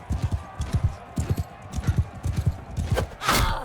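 Horse hooves clop in a rapid galloping rhythm during a Mount & Blade 2: Bannerlord battle, with bursts of combat noise near the end and a voice talking faintly in the background.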